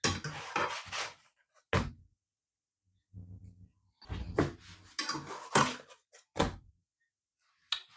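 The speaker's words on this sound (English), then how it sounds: "We're gonna need a plate, and I'm gonna use a spatula." A spatula and plate are handled during cooking of butter chicken: several close clattering knocks and scrapes come in irregular bursts separated by quiet gaps.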